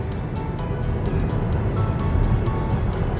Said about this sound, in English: Too much of bike traffic here.